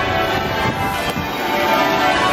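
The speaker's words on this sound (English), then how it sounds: "Some loud bells up there." Church bells clang continuously against a dense wash of outdoor street noise in the United Kingdom, the ringing blended and steady rather than clearly separated into strokes.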